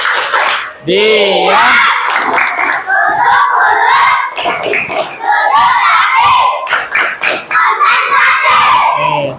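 A classroom of students performs a rhythmic concentration clapping chant on a teacher's cue, sharp bursts of claps mixed with shouted voices and brief pauses, loud and close; a teacher speaks briefly.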